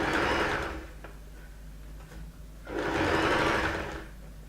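A sewing machine stitches gathers onto a skirt waistband in two loud, close whirring runs with a quieter mechanical pause between them.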